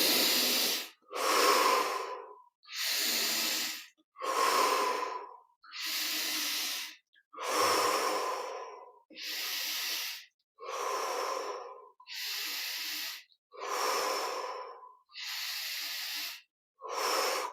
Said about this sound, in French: 15 respirations profondes